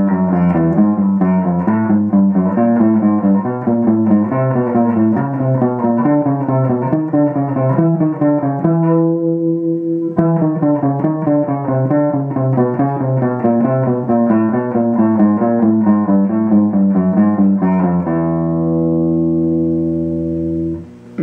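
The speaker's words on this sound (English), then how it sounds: "we're still going to be grouping the chromatic scale into fours, except now we're going to be playing those groupings in a descending pattern" Single guitar notes descend through the chromatic scale in repeating four-note groups, evenly picked and close, with a brief held pause midway and a sustained final note, no voices.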